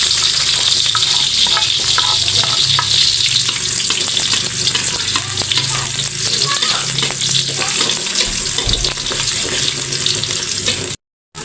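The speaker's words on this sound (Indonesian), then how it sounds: "Kita numis kangkung dulu. Bawang merah, bawang putih." Shallots and garlic sauté in hot oil for a water spinach stir-fry, a loud close crackling sizzle with occasional stirring scrapes before an abrupt stop.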